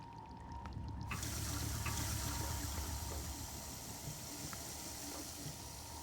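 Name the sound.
running water in Prey video game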